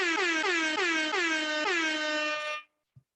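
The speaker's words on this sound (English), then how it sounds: "So I need a big air horn to go with the big bills." A loud air horn blasts in repeated rising bursts for about two and a half seconds, then cuts off abruptly, followed by a brief soft thump.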